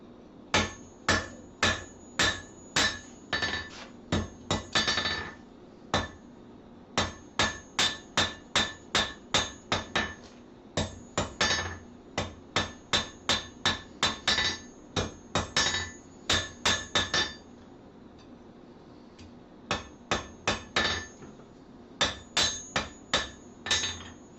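A hammer beats on the end of a metal bar to taper it for a scarf weld, with dozens of sharp ringing blows in quick steady bursts separated by brief pauses, loud and close.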